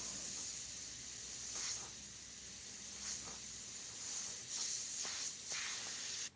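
Iwata airbrush spraying paint, a steady soft hiss of compressed air with several brief bursts as the trigger is worked, close and quiet.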